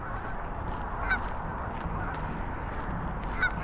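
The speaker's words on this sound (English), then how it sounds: "And the geese are having a lot to say about it" Geese honk by a river on a winter walk in Calgary, two sharp calls at a distance over steady outdoor noise and flowing water.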